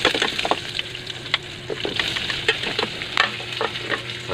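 Fish sizzling as it sautés in a hot pan, a steady frying crackle with occasional sharper pops and stirring clicks, close and continuous throughout.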